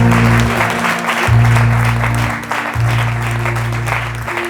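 A church congregation applauds steadily and loudly through the whole stretch, with a sustained organ or keyboard tone underneath and no spoken words.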